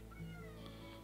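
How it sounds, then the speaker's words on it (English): A whiny cat meows, a short plaintive cry close to the mic over a steady background hum, with no voices. "What's wrong, whiny cat?"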